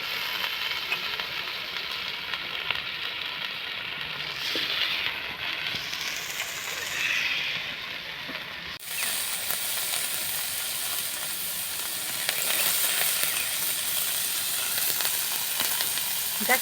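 Chopped banana flower hitting a hot wok, giving a loud, continuous hissing sizzle up close that swells and stays steady throughout, with steam and occasional stirring scrapes.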